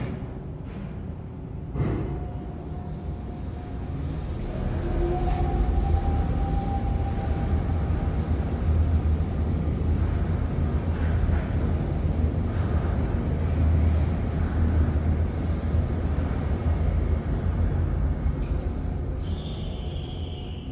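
A modded traction elevator at Forest Glen Metro Station hums and rumbles steadily as it travels, with a brief clunk near the start and faint tones and a chime toward the end.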